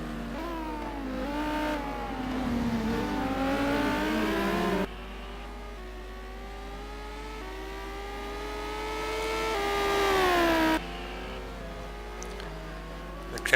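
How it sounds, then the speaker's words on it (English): Race car engine in a sim racing game at the Kyalami circuit in South Africa, GT cars revving and shifting up through the gears with abrupt cuts between views, loud and continuous. "Car looking very quick through the corners, late on the brakes,"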